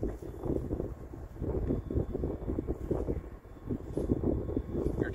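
Steady wind blows across an open outdoor disc golf course in Florida sun or Ohio snow, a continuous low roar with gusty buffeting on the microphone and no talking.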